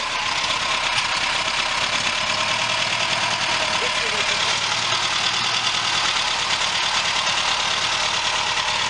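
A 1987 Moskvich-2140 SL export-model car engine runs at a steady idle with an even low rumble, close and continuous throughout, while people talk over it.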